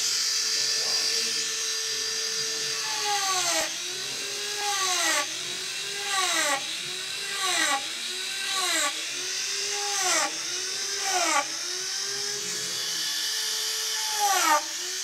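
Wood is cut by a Sabre carbide multi-tipped texturing tool on a rotary power tool, producing a whining drill note that rises and falls in a repeated rhythmic pattern. A voice talks throughout.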